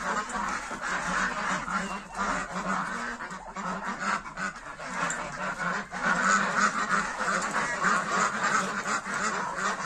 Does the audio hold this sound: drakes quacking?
yes